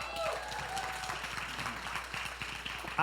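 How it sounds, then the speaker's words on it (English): A church congregation applauds as a pastor's wife comes up to the stage, a faint, distant patter of many hands clapping, continuous for about three seconds with faint voices mixed in. "Why don't you guys give her some applause as she comes up?"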